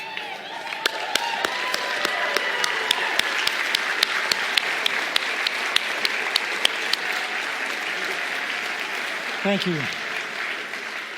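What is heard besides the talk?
standing audience applause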